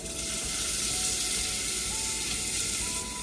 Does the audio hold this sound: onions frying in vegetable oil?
yes